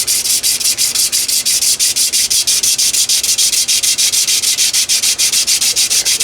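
A wooden hand drill spindle is spun fast between the hands for a friction fire, making a loud, rapid, rhythmic rubbing and scraping with regular pulses from quick back-and-forth strokes, close and continuous, with no voices.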